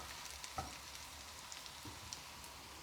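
Bitter gourd (pavakka) curry is stirred in a pan over a soft, low frying sizzle, with a few faint scrapes and taps.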